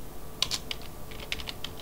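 A command typed on a computer keyboard, a short run of close, light key clicks in quick succession, with no talking.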